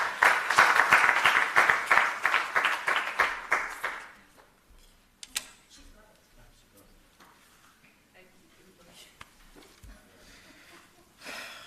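A room full of people applauds loudly for about four seconds, then the clapping fades into quiet rustling and shuffling.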